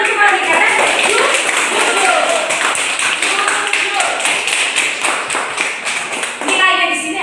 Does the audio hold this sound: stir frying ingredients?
no